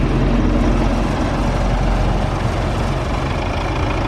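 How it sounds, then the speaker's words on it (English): Massey Ferguson 290 tractors running beside a river while carrying rice paddy, a steady, loud, low engine rumble with no clear breaks, close by, with no talking. "Wow, a lot of tractor."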